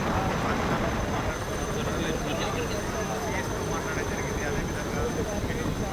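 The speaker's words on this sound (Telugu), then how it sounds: "చిక్కుకున్న ఈ రైతుల్ని కాపాడేందుకు ఆర్మీ హెలికాప్టర్లు డైరెక్ట్ గా రంగంలోకి దిగటంతో" Army helicopters fly during a flood rescue operation for stranded farmers in Rajanna Sircilla, producing a dense, continuous rotor and engine roar that stays loud and steady throughout.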